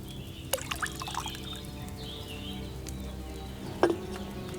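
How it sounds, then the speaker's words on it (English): Wine is poured into a cauldron in the video game Kingdom Come: Deliverance II, a soft trickling pour under faint ambient game sounds, with a couple of small clinks and taps. "First, you have to pour the right base into the cauldron."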